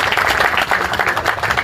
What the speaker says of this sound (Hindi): आप तमाम लोग एक बार तालियों की गड़गड़ाहट से उसका अभिनंदन